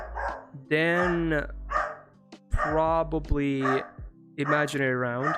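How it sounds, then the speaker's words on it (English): A dog barks loudly right beside the microphone in several harsh, tonal bursts with pauses, while someone talks quietly between them. "Excuse the dog."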